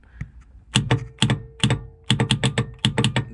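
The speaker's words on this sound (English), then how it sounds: "you could hear my haptics, the solenoids" Sharp mechanical clacks of pinball machine solenoids giving haptic feedback fire in quick bursts, singly and then in rapid clusters of three or four, fairly close and loud.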